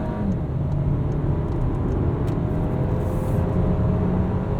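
A 2017 VW Golf SportWagen 1.8T S 4MOTION accelerates on the highway to pass a slow car, its engine holding a loud, steady drone with a gradually climbing tone under constant road and wind noise from inside the cabin.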